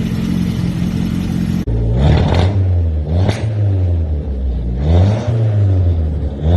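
A car engine revs loudly and repeatedly, the pitch climbing and dropping in several close, strong bursts with no voices.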